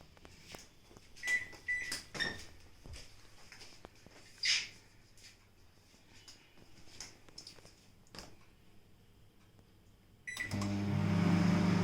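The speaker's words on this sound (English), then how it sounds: "I will be steaming them in my microwave for about 12 minutes." Soft clicks and door thumps lead to a microwave oven starting up to steam banana tree stem pieces, its steady loud hum taking over for the final seconds.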